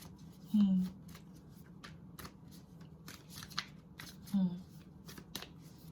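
Reading cards are shuffled during a pick-a-card reading in quick riffling bursts and soft flicks, close and fairly quiet, with a low hum and brief vocal sounds between.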